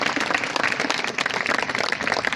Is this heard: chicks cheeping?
no